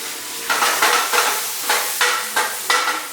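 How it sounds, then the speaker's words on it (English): Onions frying on high heat in a pan, sizzling with repeated bursts of stirring and tossing roughly every half second, close and loud, no voices. "Onions on a high heat."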